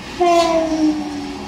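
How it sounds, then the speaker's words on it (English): A train horn sounds in a film scene, its long sustained tones sliding slightly in pitch over a rumbling background, loud and close for about a second before trailing off. "That was a train."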